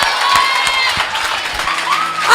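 A church congregation applauds and cheers during a sermon, a loud, lively roar of clapping and raised voices from a crowded hall.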